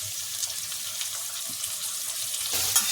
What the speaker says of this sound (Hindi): अब डालेंगे प्याज। प्याज जब फ्राई हो जाएगा तब ये डालेंगे जीरा।